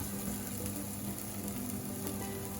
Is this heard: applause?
no